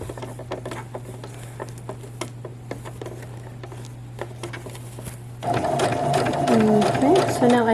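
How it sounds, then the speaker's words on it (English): Sewing machine running a straight stitch with normal settings along the old seam of a formal dress being taken in. Quiet handling and a low hum come first, then the motor whirs loud and steady at close range. Someone talks lightly over it. "So I'm just gonna sew with a straight stitch, everything normal settings"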